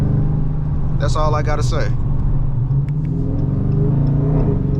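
A cammed 2022 Dodge Charger R/T V8 rumbling with a choppy, loping idle and a brief rev, close and continuous, with someone talking over it.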